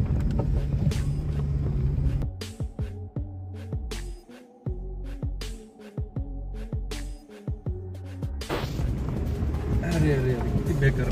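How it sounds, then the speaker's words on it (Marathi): Stones knock against the underside of a car crawling along a rough temporary diversion road, a run of sharp, irregular clatters over a low engine rumble, with people talking before and after. "दगड कशी आपटतायत गाडी खाली."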